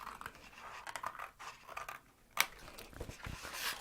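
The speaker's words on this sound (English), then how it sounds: "then you're going to cut out this full corner panel" Scissors or a blade snipping through card to remove a corner panel of a card storage folder, a string of quiet, close scratchy cuts and rustles with one sharper snap partway through.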